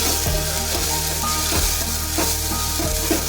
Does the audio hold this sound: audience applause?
no